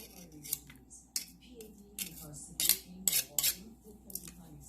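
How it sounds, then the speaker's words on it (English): Fresh garlic cloves crushed in a garlic press while cooking oxtails, giving a series of short, sharp metallic squeezes and clicks, with a few louder crunches in the middle, close up and with no talking. "I like to go in with a garlic press because it gets all of the garlic out and it gets all of the juices"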